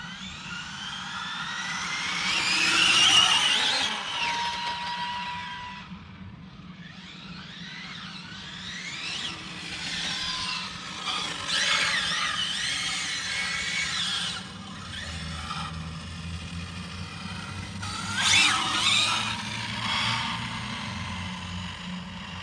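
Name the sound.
ARRMA Infraction RC car driving with Hobbywing Max6 motor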